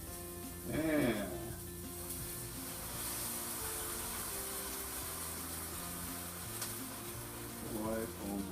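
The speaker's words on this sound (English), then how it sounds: "a little bit of a sizzle here." Steak for a beer-steak chili sizzles quietly in a pan over low-medium heat, a soft, constant hiss beneath a voice.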